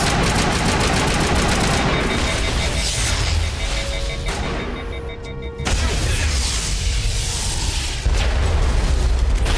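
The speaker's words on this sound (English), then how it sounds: "A grenade point blank into the face." Grenade blast and bursts of gunfire in the video game Mass Effect, loud and dense throughout, with a brief dip mid-way before heavy firing resumes.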